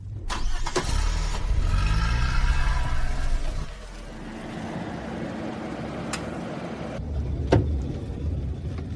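A car engine starts and runs loud and close for a few seconds, then settles into a steady, quieter drone of the moving car, with a couple of sharp clicks and a thump near the end; no one speaks.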